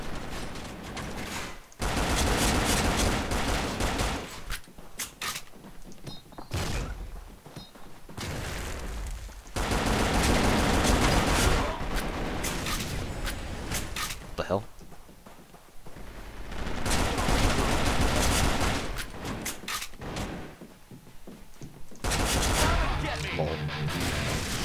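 SCAR-L rifle fire in the Arctic Combat shooter game, long loud automatic bursts broken by brief pauses, with other battlefield noise and speech mixed in.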